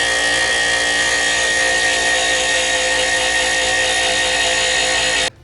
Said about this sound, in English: I'm going to try to see if I could replicate this one using an angle grinder by hand